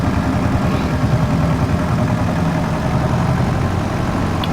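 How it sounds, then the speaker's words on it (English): A small tractor engine runs steadily at idle with a low, even rumble, close by and loud, with no voices. "I do like this little tractor, especially when you hear the old gears clonking."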